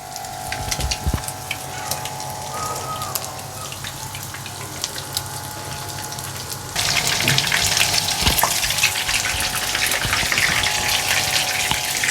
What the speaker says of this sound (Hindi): अब चिकन को अच्छे से फ्राई करना है, लाइट ब्राउन होने तक।